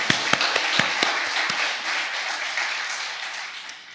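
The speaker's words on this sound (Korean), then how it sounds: "큰 박수 부탁드리겠습니다." Audience applause at a church gathering, a scattering of sharp individual claps at first that blends into a broad, fairly steady wash of clapping and then slowly fades.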